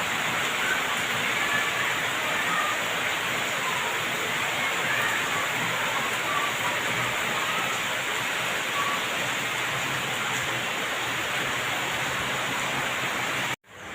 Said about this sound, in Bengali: কি যে ঝড় বৃষ্টি শুরু হইল